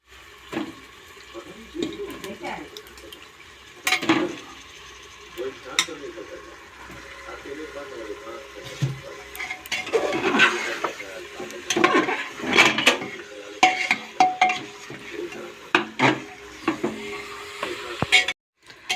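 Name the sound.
meat frying and being stirred with spices for cooker biryani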